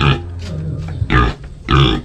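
Deep, throaty pig grunts come in short bursts close by, with a low rumbling snort between them.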